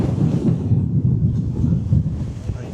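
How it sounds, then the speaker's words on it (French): Low rumbling thunder rolls continuously as a storm approaches, with gusting wind, steady and fairly loud throughout with no clear breaks. "Une tempête se prépare."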